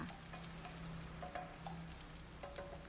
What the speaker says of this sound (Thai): ตั้งกระทะอีกครั้งหนึ่งแล้วใส่น้ำมันลงไปค่ะ ตามด้วยพริกแกงคั่วค่ะ ผัดให้หอมๆค่ะ